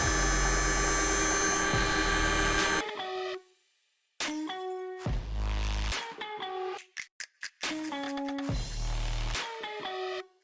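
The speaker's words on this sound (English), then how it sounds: "First thing we got to do is put a bevel on our pipe." Angle grinder cutting a bevel on stainless steel pipe, close and loud: a high, whining grind in several long passes broken by short pauses, with the motor spinning up and winding down between passes.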